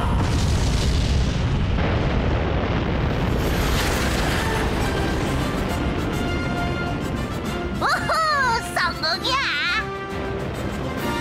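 Eddy's toy spaceship launches during Pororo toy play with a loud, continuous roaring rumble and booming blast, and bright chirpy effects and voices come in near the end.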